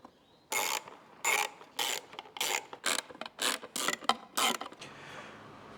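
Short bursts of ratchet clicking come from a hand tool screwing parts together, about eight quick close-up runs in a steady start-stop rhythm with quiet gaps between.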